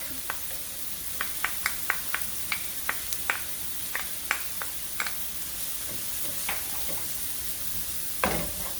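Garlic sizzling in a pan for Vietnamese crab noodle soup under a steady hiss, with a series of light, regular clinks from stirring and a louder scrape near the end.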